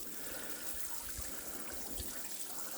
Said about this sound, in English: So yeah, just give them all a good watering in.